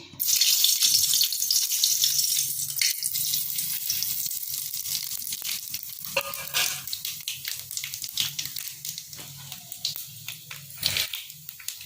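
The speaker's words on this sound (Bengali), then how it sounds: "এবার তেলের মধ্যে ফোড়নটা দিচ্ছি" Whole spice tempering (phoron) sizzling in hot oil, a bright close hiss that starts loud and slowly thins into scattered crackles and pops, with no voices.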